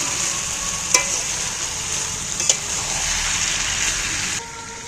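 Chicken sizzles and hisses steadily in a hot pan as it is stir-fried, with a couple of sharp spatula scrapes and clinks, the sizzle dropping off abruptly near the end.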